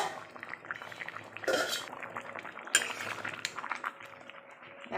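Thick jackfruit and prawn curry, made with cashew and poppy seed paste, is tipped from the cooking pan into a serving dish with a few utensil scrapes and clinks against metal, close and fairly quiet, with no talking.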